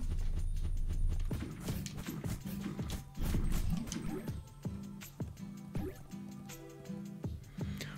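Horse hooves clip-clopping in the video game Nobody Saves the World, a fast, regular run of distinct hoof knocks over a low game background, close and moderately loud, with no talking.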